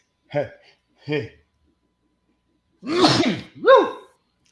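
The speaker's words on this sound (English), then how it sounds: "I'm about to sneeze." A voice speaks briefly twice, then after a pause comes a loud, close sneeze with a sharp gasping intake and burst.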